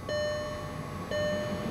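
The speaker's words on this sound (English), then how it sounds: "Then you will hear these beeps." Two electronic startup beeps from a luxury car as it powers on, each a clear steady tone about a second apart, fairly quiet and close with no voices.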